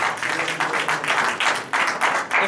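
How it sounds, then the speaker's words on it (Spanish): A church congregation claps during a sermon, a short burst of dense, fairly close applause rising and falling in waves. "Dan un aplauso al Señor, hermano"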